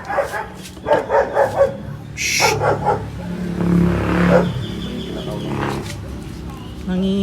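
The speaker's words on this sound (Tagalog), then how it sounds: "Nangiingay ng mga aso." Several dogs bark in a rapid series, then more barks follow further off, with highway traffic rumbling in the background.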